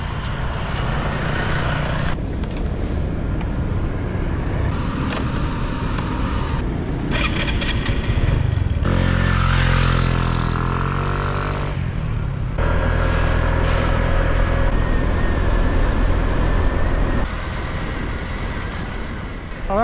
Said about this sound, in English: Let's go back to the scooter and carry on the journey